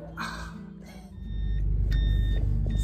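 A car rolls along a road in Paraguay, its low engine and tyre rumble swelling steadily louder and closer, with no talk over it.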